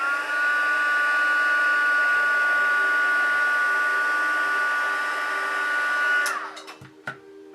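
Electric heat tool blowing steadily on embossed paper, a loud continuous whirring hiss that runs for several seconds before switching off with a few faint clicks.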